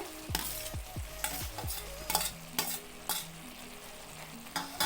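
Tomato pieces tumble into a pan of frying fenugreek-leaf chicken curry, with several sharp clattering drops and repeated stirring scrapes over a steady close sizzle, no voices.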